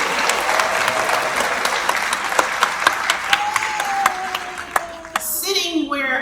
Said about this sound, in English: We should all clap today.